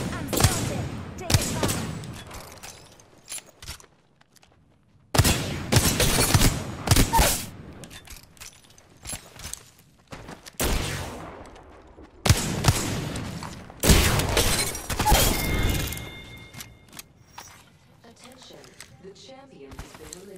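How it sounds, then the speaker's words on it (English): Bursts of rapid gunfire in the video game Apex Legends crackle in clusters, some loud and close, others distant, separated by brief quiet gaps, with faint talk underneath. "I just heard more gunshots somewhere."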